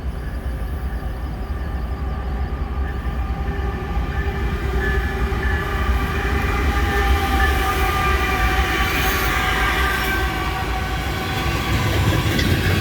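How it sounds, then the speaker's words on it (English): A southbound unit potash freight train rolls past near Neenah, a steady loud rumble of railcars with wheel clatter and a faint horn, continuous throughout with no talk. "a unit potash train."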